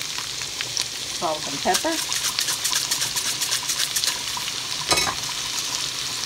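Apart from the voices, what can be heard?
peppers and onions sautéing in a pan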